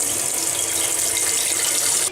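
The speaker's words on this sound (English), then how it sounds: "first thing to do is fill a large pot with water." Tap water pours steadily into a large cooking pot in a kitchen, a loud, continuous rushing splash with no voices.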